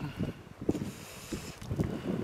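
Wind gusts buffet the microphone on a hilltop at the abandoned Corsican village of Occi, producing low, rumbling swells that rise and fall irregularly, fairly faint overall.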